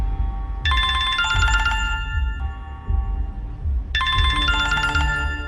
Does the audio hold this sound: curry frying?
no